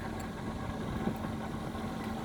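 A 1974 first-generation Honda Civic engine idles on its first warm-up after a new clutch was fitted, giving a steady, close, even rumble with a faint constant hum and no breaks throughout.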